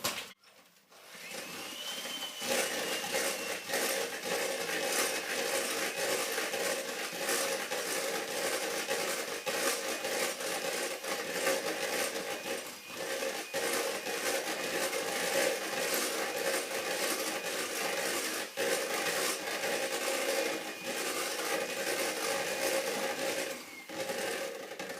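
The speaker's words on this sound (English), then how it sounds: "So a small amount, and then whisk" An electric mixer whisking egg whites with caster sugar for French meringue, a steady close whirring drone with faint clicking and rattling against the bowl, running continuously without speech.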